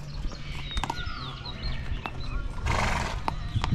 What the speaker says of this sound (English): time to ride a horse, man